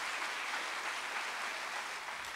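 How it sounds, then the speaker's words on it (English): Concert audience at the Millennium Forum in Derry applauding a performance, a dense, steady wash of clapping from a large crowd that holds at full strength throughout without fading. "Give them another big round of applause"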